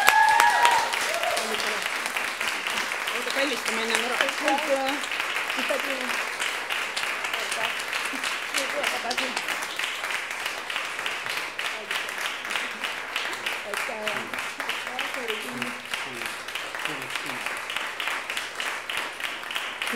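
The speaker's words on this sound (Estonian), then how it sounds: "Aplaus" Audience at an awards ceremony for quality hobby schools claps in sustained, even applause lasting the whole stretch, while a voice speaks briefly at the start and faint talk surfaces underneath.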